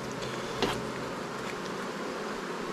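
Honeybees buzzing around a hive, a steady close hum with a few brief louder passes as individual bees fly near.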